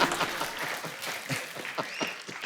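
Studio audience on a Hindi TV talk show breaks into sustained clapping, dense and fairly loud throughout, with a few brief voice fragments mixed into the applause.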